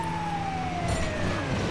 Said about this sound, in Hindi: एम्बुलेंस पता नहीं क्या नाते में आ गई।